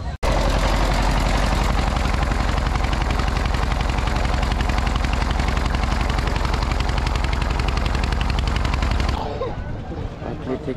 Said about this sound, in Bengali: এখান থেকে নৌকাটা ছেড়ে দিয়েছে হুমায়ুনপুরের উদ্দেশ্যে